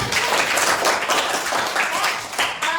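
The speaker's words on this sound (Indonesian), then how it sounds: "tepuk tangan dulu buat" A classroom group claps together, a dense close burst of hand clapping that stays steady and loud and fades briefly near the end.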